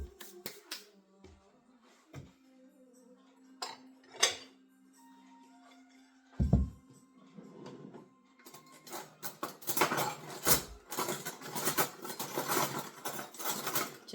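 Metal cutlery rattles and clinks in scattered bursts while someone rummages for a spoon in a kitchen. Sharp isolated ticks come first, then dense jangling toward the end, fairly close and soft.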